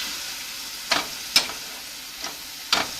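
Seasoned rabbit meat browns in a pan, a soft continuous sizzle punctuated by a few brief crisp pops and spatters at irregular intervals, fairly close and quiet, with no voices.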